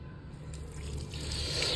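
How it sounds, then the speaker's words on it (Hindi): Cold water from a rooftop tank running from a tap over hands being washed, a soft, faint trickling and splashing that grows slightly louder, with a low hum underneath. "कितना ठंडा पानी आ रहा है, बिल्कुल बर्फ पानी आ रहा है टंकी में से"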